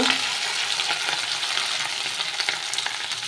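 A paste of chili, melon seeds, cashews and raisins sizzles in a pan as it is stirred, giving a bright, dense, close frying hiss for a few seconds with no voices.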